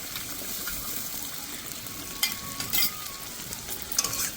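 Ground spice paste for rui fish frying in a pan, a constant hiss and sizzle with a few light clinks and stirring scrapes, close and moderately loud with no voices.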